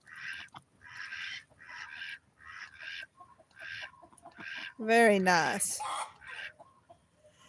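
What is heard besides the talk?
rooster calling hens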